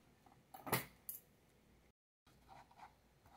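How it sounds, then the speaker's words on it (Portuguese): Scissors snip through jute fabric in a few sharp, close cuts, then quieter rustling handling follows after a brief pause, with no talking. "vamos cortar aqui na juta também"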